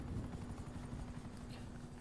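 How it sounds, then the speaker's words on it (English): Helicopters in GTA 5 Online give a steady, dense rotor drone with a low pulsing beat and a constant hum, heard continuously and fairly loud with no speech. "Choppers."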